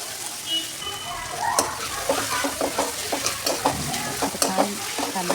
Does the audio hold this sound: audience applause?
no